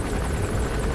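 Helicopter in the video game Metal Gear Solid V: The Phantom Pain, a steady, loud rotor and engine drone that fills the whole second without a break.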